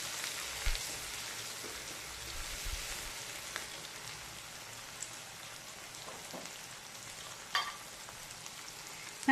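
Chopped onion and tomato sizzle steadily in a pan while cooking a mint puffed-rice dish, a continuous crackling hiss with occasional louder pops and faint stirring scrapes, close up and without any talk.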